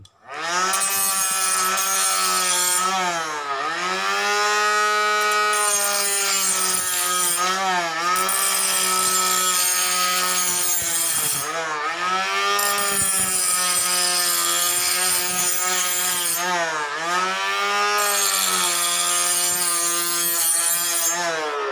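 A multifunction sharpener for knives, scissors, screwdrivers and saws runs against a knife, giving a loud, continuous motorized whine whose pitch dips briefly several times as the blade is pressed and drawn, close up with no talking.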